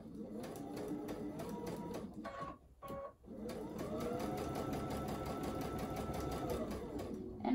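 A sewing machine bastes a seam on a fully lined scrub cap, stitching steadily close to the fabric edge, pausing briefly midway and then running on in a long continuous whir, near and clear with no talk.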